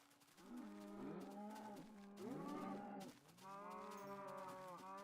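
Cows moo in Minecraft PS3 Edition, three long drawn-out lowing calls one after another, fairly close and clear, with no speech over them.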